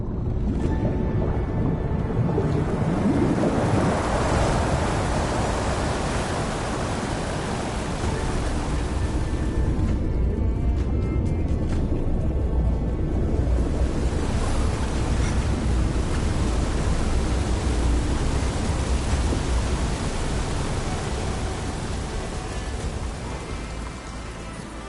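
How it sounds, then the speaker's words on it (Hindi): Water drains out of a flooded facility in the video game Horizon Forbidden West as a steady, loud rushing roar that holds for the whole stretch and eases slightly toward the end. "अब चलो इस फैसिलिटी में से पानी तो निकलेगा।"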